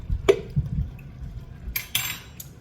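Minced garlic spooned into a pan for shrimp and grits, a few light metallic clinks and taps of the spoon against the pan, short and close, with faint background hiss.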